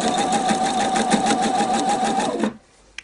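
A Pfaff or Husqvarna Viking sewing machine stitches a seam at a steady fast whirr, loud and close, running continuously for about two and a half seconds before stopping abruptly.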